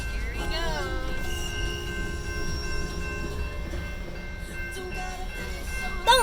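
CSX freight train passing with its cars rolling by and high wheel squeal ringing over the rumble, moderately loud at first and easing off, with faint voices now and then.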